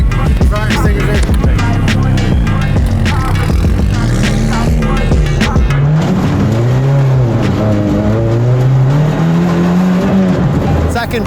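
Front-wheel-drive rally car at a speedrun rally event, engine revving hard and rising in pitch as it launches off the start line, loud and continuous with people talking over it.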